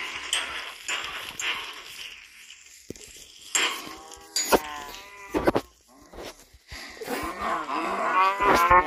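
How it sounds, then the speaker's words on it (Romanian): Several cows mooing in a video game, overlapping drawn-out lows that come one after another at close range, growing denser and louder toward the end. "Bă, că spawnez prea multe vaci."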